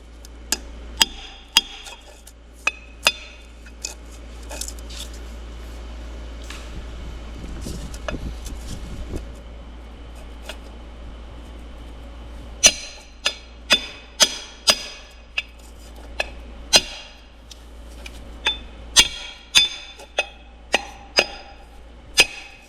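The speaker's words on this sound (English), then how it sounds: "I'm just gonna use a hammer and I'm gonna put this in" Sharp hammer blows ring out in irregular bursts while a part is driven into place on a Pettibone telehandler, some quick runs of taps and some single strikes, with a quieter scraping stretch in the middle.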